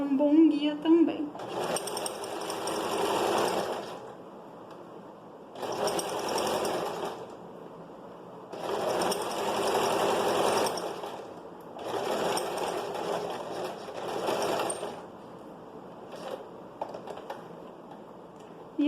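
A domestic sewing machine stitches a skirt seam in several bursts of steady whirring, each a few seconds long, with short pauses between runs. The machine is close and clear.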